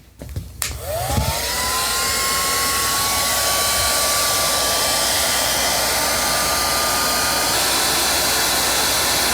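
A heat gun shrinks 3/8 heat shrink tubing during repair of a Toro Turfmaster mower with a Kawasaki FJ180V engine. After a click it blows a loud, steady, close whirring roar with a rising whine, running continuously to the end.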